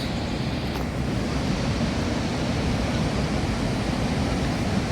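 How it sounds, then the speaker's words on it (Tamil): Athirappilly waterfall in Kerala, a steady, dense roar of falling water that stays constant and loud throughout, with no voices. "கட்டாயம் மிஸ் பண்ணாமல் பார்க்கக்கூடிய ஒரு இடம் அதிரப்பள்ளி ஃபால்ஸ்"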